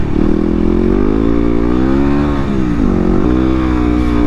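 A 2016 Yamaha WR250R motorcycle at highway speed, a loud steady engine drone with a slight dip and rise in pitch, wind rush underneath, close and continuous with no talk.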